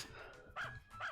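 A dog barks twice in Story of Seasons: A Wonderful Life, short quiet game barks spaced about half a second apart over a faint background.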